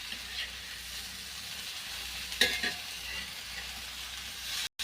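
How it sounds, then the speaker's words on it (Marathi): Chitrak shoot vegetable sautéed with onions in a pan on a wood-fired stove fills the clip with a steady frying sizzle, a sharper scrape of stirring near the middle, and a brief cut to silence near the end. "आता भाजी परतवून घेते."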